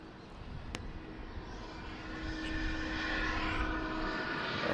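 Asiana airliner in Star Alliance livery at Sydney Airport, a steady jet engine roar heard from a distance that slowly swells louder, with no talk over it.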